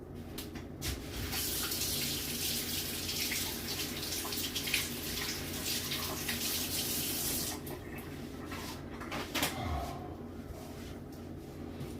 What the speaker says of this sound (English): I gotta rinse my finger off now.